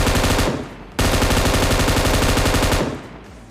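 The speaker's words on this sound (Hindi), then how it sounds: "M249 का यही फायदा है कि भाई बिना रिलोड करे 100 की 100 उतारते जाओ।" An M249 machine gun fires in the video game PUBG: a short loud burst, a brief gap, then a long sustained stream of rapid close gunshots that tails off, with no talking.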